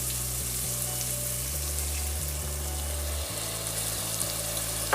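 Half a cup of IPA beer poured into a pan of golden, sizzling onions for vegetarian French onion soup, giving a steady close frying hiss with liquid splashing and bubbling, a low hum running underneath, and no talking.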